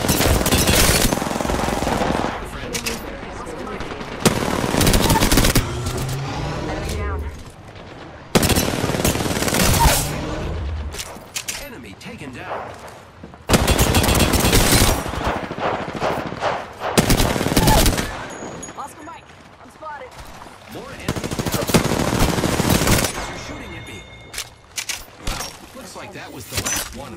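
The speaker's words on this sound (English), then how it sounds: "Opening fire on the enemy." Machine gun fire in the video game Apex Legends comes in loud, rapid bursts separated by short pauses, with breaking and shattering effects in between and occasional in-game voice callouts.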